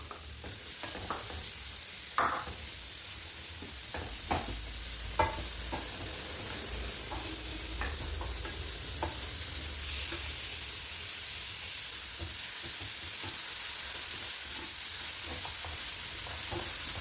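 Grated carrot sautés in a pan, giving a soft continuous sizzle with intermittent scraping and clinks of a spoon stirring, fairly quiet and close with no talking.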